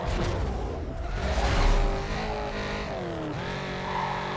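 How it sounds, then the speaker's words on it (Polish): Race car engine in Need for Speed Carbon roaring at a steady high pitch, with shifting tones as the car accelerates and whooshes along, loud and close throughout with no talking. "Ale ten samochód jedzie szybko."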